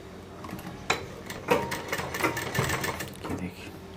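A sewing machine stitches a kurti seam in short, uneven bursts of mechanical clatter, mixed with handling knocks while someone talks over it.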